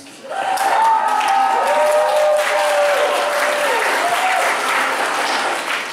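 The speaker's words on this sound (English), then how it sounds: "How many people here think that marijuana should be legalized by applause?" A crowd at an Australian cannabis and PTSD talk bursts into loud, sustained applause for several seconds, with whistles gliding above the dense clapping.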